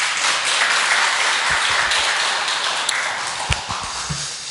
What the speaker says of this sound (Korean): 우리 앙상블에게 한번 큰 박수 다시 한번 드리죠